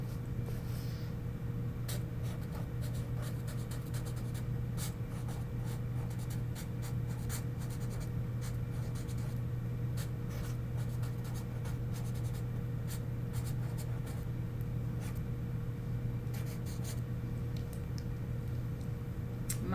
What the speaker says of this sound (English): I'm going to write mine down.